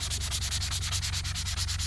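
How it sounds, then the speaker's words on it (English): Steady rhythmic scratching of a sanding pad rubbed back and forth by hand over charred wood on a DIY kayak pole holder, close and continuous with no talking. "Got our little sanding pad."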